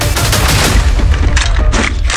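Gunfire in the Free Fire video game, a burst of loud, dense shots filling the whole clip with booming low end and sharp cracks near its close.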